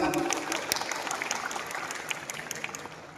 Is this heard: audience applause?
yes